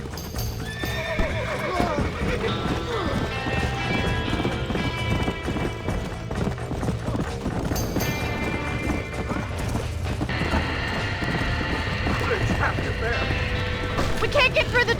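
Horses neigh and whinny as hooves clatter during a barn fire in the Red Dead Redemption video game, with shouting voices and music mixed over the commotion.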